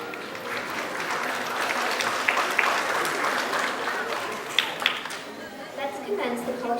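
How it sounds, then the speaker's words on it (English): Audience applause at a Vesak festival celebration, a steady wash of many hands clapping throughout, with voices murmuring beneath the clapping. "Let us show our appreciation of these dedicated children, teachers, and parents with a round of applause."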